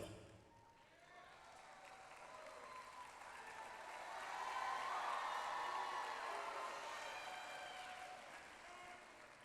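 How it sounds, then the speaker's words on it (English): An audience at a high school sports awards ceremony applauds in a large hall, the clapping swelling to a peak mid-way and then slowly thinning out. "Another round of applause."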